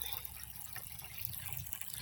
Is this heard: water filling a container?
yes